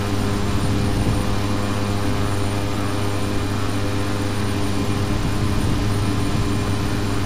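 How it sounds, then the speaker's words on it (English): Beechcraft B350 King Air engines running during a general aviation IFR flight in a flight simulator, a loud, steady engine drone that holds constant from start to finish with no talk over it. "You only hear the engines now?"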